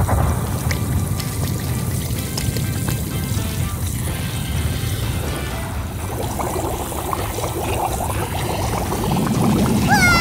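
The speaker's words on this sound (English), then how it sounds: "All we need to do now is pour some soda in." Soda poured into a hollowed watermelon loaded with mints, a steady liquid pour and fizzing trickle running continuously at close range over a busy background.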